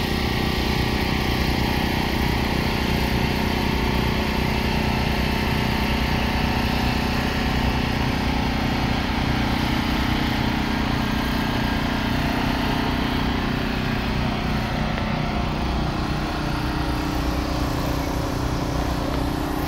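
Four-cylinder dirt track race cars run hot laps at Willard Speedway, a dense, continuous engine drone filling the scene loudly and steadily with no clear pauses or talk.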